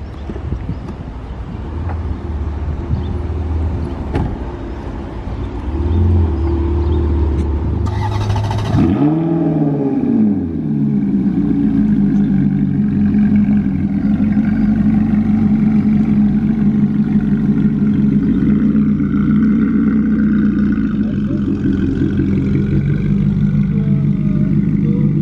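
Ferrari SF90 Stradale idling and revving in the streets of Monaco, a loud continuous engine drone with one sharp rising rev partway through, then settling back into a steady rumble, close by.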